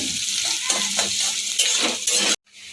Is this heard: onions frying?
yes